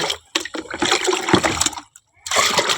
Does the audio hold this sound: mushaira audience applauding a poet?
no